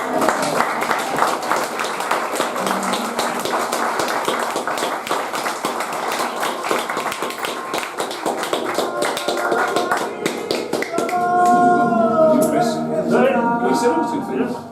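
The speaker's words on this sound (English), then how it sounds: "make this a really special round of applause if Rocky has found your card" Audience clapping fills a small stand-up magic show in a hotel room, a steady dense patter of hands running for most of the stretch before easing into scattered claps as a voice and brief tones come in near the end.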